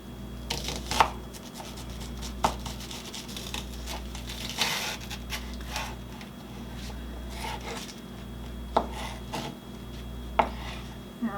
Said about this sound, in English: So to cut it lengthwise.